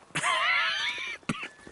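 A Red Dead Redemption character lets out a long, strained, raspy cough or groan, followed by a brief second hacking burst, close and clear with no talking.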